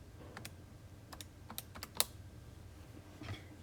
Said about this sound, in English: And then we type that into the calculator.